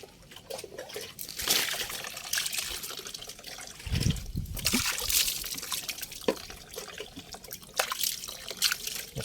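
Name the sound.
water trickling off a washed Honda Click scooter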